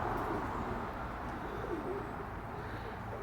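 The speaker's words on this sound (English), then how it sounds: "let's take a look at some pigeons" Pigeons, including black, spread and sooty breeding birds, give soft low cooing, steady and fairly close over a constant background hum.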